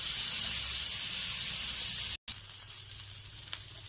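Paneer tikka sizzling steadily over a medium flame on the stove, a loud close hiss that drops out for a moment as the pieces are turned, then resumes slightly softer.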